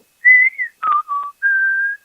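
A person whistles three descending notes, imitating a loud whistle heard at a supposedly haunted location. The notes are clear and close, alone with no talk, the first high and sliding, then two lower steps and a long steady final tone.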